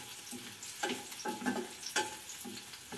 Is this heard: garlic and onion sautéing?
yes